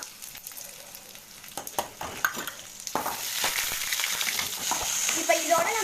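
Mustard seeds, chana dal and cumin fry in hot oil, giving a steady sizzle that builds over the clip, with scattered crackles and pops and a few clinks of a stirring spoon.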